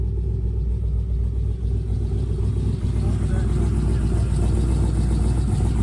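A 2001 Pontiac Firebird Trans Am with a swapped 6.7L LQ4 V8 runs at a steady, loud, deep rumbling idle, close up, with a voice faintly present underneath.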